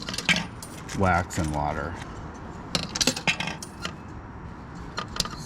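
Metal clinks and jingles of coins going into a car wash pay machine, several short bright clinks spread across the moment, mixed with someone talking nearby.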